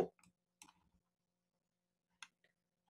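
A few sharp computer mouse clicks on an online form's continue button, close and crisp, a cluster at the start and another about two seconds later, in a quiet room.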